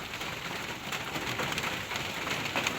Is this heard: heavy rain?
yes